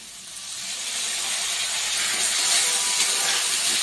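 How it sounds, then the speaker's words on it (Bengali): Ginger paste frying in a pan with turmeric and salt, a steady broadband sizzle that swells slightly and holds loud and close, with no talking. "একটু ভেজে আদা বাটা দিচ্ছি।"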